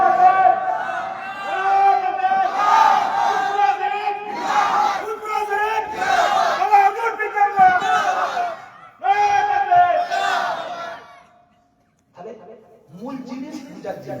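At a Bengali religious mahfil, a large crowd chants takbir in loud, rhythmic collective shouts, repeated call-and-response bursts with brief pauses between them.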